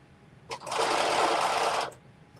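A sewing machine runs steadily for a little over a second, stitching a fabric seam with a 5/8 seam allowance, loud and close, with a brief start and stop and no talk.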